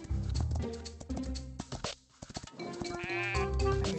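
Sheep bleating in the horse-riding video game Star Equestrian, with several wavering bleats over steady game music and a low hum, the loudest cry coming near the end.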